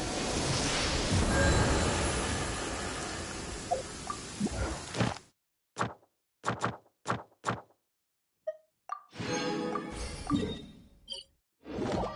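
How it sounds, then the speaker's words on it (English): Rain in the video game Genshin Impact makes a dense, steady hiss that stops abruptly, followed by short bursts of sound and then a return of the rushing wash. "I like the rain."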